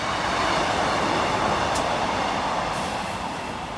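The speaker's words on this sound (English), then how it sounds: "East Midlands train system Leicester to Lincoln Central." An East Midlands train running from Leicester to Lincoln Central passes a level crossing, giving a steady, loud broadband rumble of wheels and carriages that holds evenly for several seconds and eases slightly at the end.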